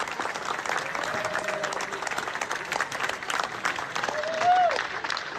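Tepid applause from a crowd plays back from a recorded clip, a steady moderate patter with some murmuring voices and a couple of brief whistles or squeaks over it.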